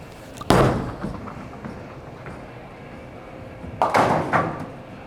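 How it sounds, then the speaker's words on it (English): A bowling ball is knocked loose inside an alley's ball return, giving two loud, close thuds a few seconds apart, the second followed by a shorter bang, with quiet hum between. "I'm gonna see if I can knock this ball loose back here"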